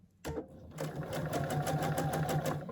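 A sewing machine stitches quilt pieces for a Christmas tree wall hanging, starting with a short burst, then running in a steady, rapid, rhythmic whir close by with no talk.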